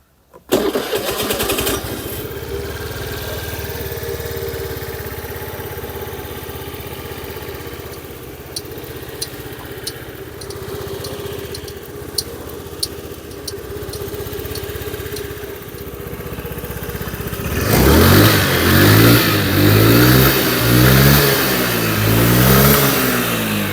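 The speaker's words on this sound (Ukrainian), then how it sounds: "Двигун працює без жодних нарікань." A Honda Dio AF68 fuel-injected scooter engine cranks and catches, idles steadily for a while, then revs up loudly in repeated throttle bursts near the end.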